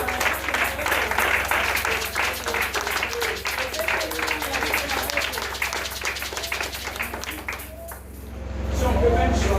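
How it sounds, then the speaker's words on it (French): A congregation at a Sunday worship service applauds the word of God. The clapping is rhythmic and fairly close, with voices murmuring underneath, then thins out near the end as a low rumble rises. "Applaudissons la parole de Dieu."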